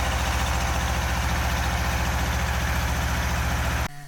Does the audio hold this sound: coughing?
no